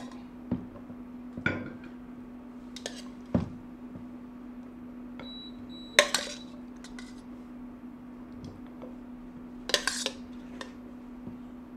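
Pork stirred in a pot with a little oil poured off, scattered metallic clinks and scrapes of a utensil against the pot over a steady low hum, close by with no talk.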